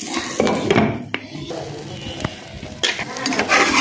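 A lid set over a pan on the stove while egg paratha cooks, giving a few light metallic clinks and scrapes against a soft sizzle.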